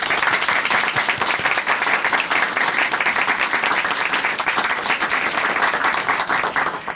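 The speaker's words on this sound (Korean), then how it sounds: "이 자매님의 가정에 하나님께서 함께 해주시기를 박수로 응원해 드리겠습니다" Steady, dense applause from a church audience at a Korean Christian testimony program, loud and sustained for the full stretch with no voices over it, tapering slightly at the very end.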